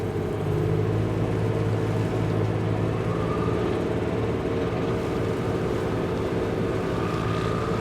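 Tractor engine with a slipping clutch, running steadily at close range with a continuous low rumble and no voices.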